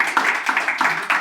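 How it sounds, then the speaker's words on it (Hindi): Audience applause at a live poetry performance at Pahchan Studio, a short burst of close, bright clapping with uneven rhythmic surges, loud and alone. "तो एक बार आपकी तालियां चाहूँगा"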